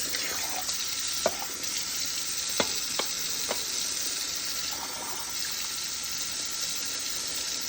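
Water from a can poured into a pot of simmering spaghetti sauce, a continuous sizzling, bubbling wash with a few soft clinks, moderately quiet and without talk.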